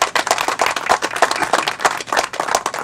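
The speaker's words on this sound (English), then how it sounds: "Please give him a big round of applause." An audience at a K9 press conference claps in a steady burst of applause, many hands together, dense and sustained for the whole stretch with no talking.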